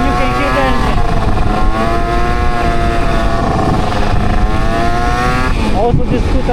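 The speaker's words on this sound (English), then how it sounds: "so I put one in my pocket and you can hear the engine." An Aprilia SR50 scooter fitted with a 70cc kit engine runs loud and close while being ridden in, its buzzy two-stroke tone holding steady with a rising rev near the end and faint talk underneath.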